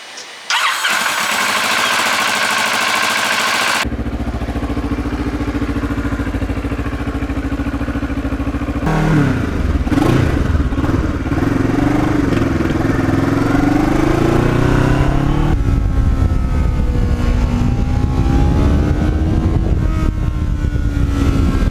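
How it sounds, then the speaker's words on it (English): A Kawasaki Ninja motorcycle engine cranks and catches, then runs and revs steadily, its pitch rising and falling as it rides along. "this bike, it has got a nice quiet sound when it goes through town"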